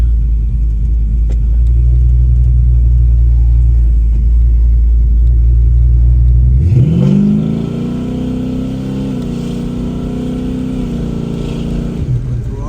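A 1986 Chevrolet Silverado pickup rumbles loudly at idle, then pulls away and settles into a steady, lower engine drone while driving, heard close up from inside the cab.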